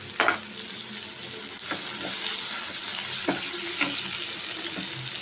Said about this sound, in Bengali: তারপরে আমি পেঁয়াজটা ভাজা হবে